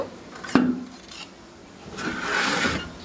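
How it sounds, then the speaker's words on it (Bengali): A ladle scrapes and knocks against a pot of boiled meat in a home kitchen, with a sharp clank followed by softer rubbing strokes and a longer grating stir toward the end, close and moderately quiet. "হাতা দিয়ে নেড়ে দিচ্ছি"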